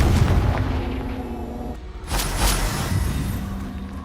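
Loud, close Confringo fire-spell blasts in Hogwarts Legacy, a dense run of booming explosive bursts with a sharper detonation near the middle.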